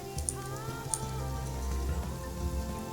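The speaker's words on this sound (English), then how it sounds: "It's raining up here and not down there." Rain falls in a video game, a steady close patter on surfaces with a few sharp ticking drops over a low ambient hum.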